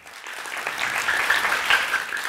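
Studio audience applause on a Kurdish Family Feud game show, a steady dense wash of clapping that holds evenly throughout at moderate loudness.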